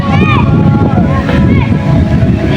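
Steady wind rumbles across the microphone in Cebu-Leyte, Philippines, with the faint worship song 'Waymaker' playing and sung along underneath.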